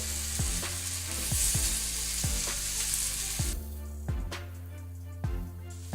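Poha cutlets fry in hot oil on a medium flame, a steady close sizzle that runs throughout, with periodic light taps and clicks and a drop in hiss partway through.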